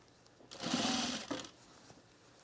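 A sewing machine stitches a color block top with piping and pleats in one short, steady whirring run of under a second, close by, with near-silence around it.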